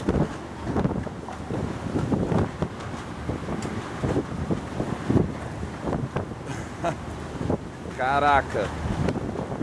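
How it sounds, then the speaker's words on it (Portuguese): Strong storm wind buffets the microphone with loud, gusting rumble throughout, while someone speaks briefly over it. "é forte mesmo o vento, tá até me balançando aqui"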